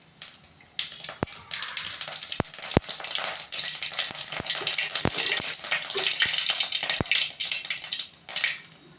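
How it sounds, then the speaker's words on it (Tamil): Mustard seeds splutter and pop in hot oil in a pan, a dense sizzling crackle punctuated by sharp, loud pops, heard close up with no talk. "கடுகு பொரிஞ்சிச்சு."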